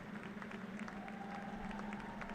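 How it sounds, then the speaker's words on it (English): Roughly 500 to 600 inauguration guests applaud inside the U.S. Capitol, a faint, steady wash of distant clapping under a low hum, with no distinct individual claps. "You can hear the applause from the roughly 500, 600 folks inside the U.S. Capitol."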